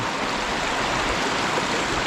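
Mountain water rushes steadily down a rural river in the provinces, a loud, continuous broadband roar with no break and no voices over it.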